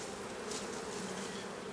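A swarm of Berlin honey bees hums in a dense, continuous buzz, steady and fairly close, with no voices.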